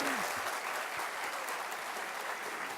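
Warm, steady applause from a crowd fills the whole moment, dense clapping at even loudness with a brief voice at the very start.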